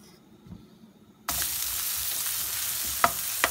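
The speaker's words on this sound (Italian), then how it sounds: "Sentite come frigge?" Loud, steady sizzling of guanciale frying in a hot pan, starting abruptly after a quiet moment and crackling continuously, with a couple of sharper pops near the end.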